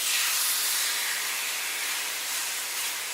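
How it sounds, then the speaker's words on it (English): Steak searing in a lightly smoking oiled cast iron skillet, giving a steady, close broadband sizzle and hiss that holds at an even level for the whole stretch, with no voices over it. "That nice searing sound is what you want to have to know that your meat is going in a very good position"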